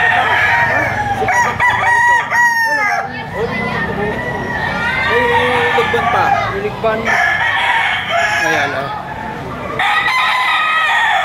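Many chickens cluck and roosters crow loudly and repeatedly at a poultry market in Lipa, Batangas, amid a busy, crowded space, with people talking close by throughout.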